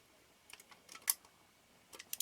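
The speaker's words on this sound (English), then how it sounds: "cock the shutter" Cocking the shutter of a Nikon F film camera: a few small, sharp mechanical clicks and ratchet ticks, close and quiet, scattered across a couple of seconds.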